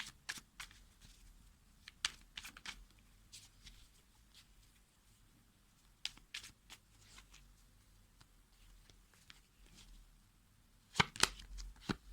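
Tarot cards shuffled by hand, giving quiet, close riffling and slapping bursts spaced irregularly, with a louder flurry near the end and soft handling noise between.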